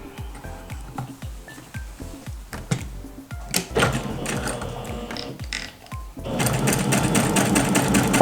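A sewing machine stitches small patchwork foundation pieces in quick rhythmic bursts, starting in short runs and then running continuously and louder near the end.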